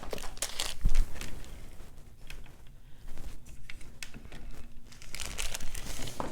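A Ziploc bag holding raisins crinkles and rustles close up, with irregular bursts of plastic crackling and a few sharper crunches, alone without talk.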